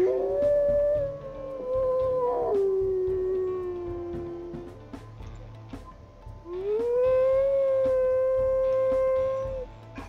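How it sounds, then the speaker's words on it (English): A wolf in the video game WolfQuest gives two long, mournful howls, each rising then sliding down and holding, loud and close over a faint low background. "Let's see what howl she inherited."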